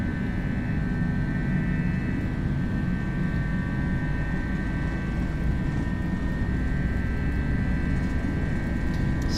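Steady, loud jet engine roar from an FSLabs A321 accelerating on its takeoff roll in the Prepar3d flight simulator, with a continuous broadband rumble and a faint high whine holding throughout.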